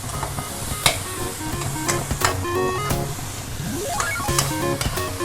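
Cabbage fries with fish sauce in a pan, a continuous loud sizzle broken by repeated clattering strikes and scrapes of a utensil stirring the leaves.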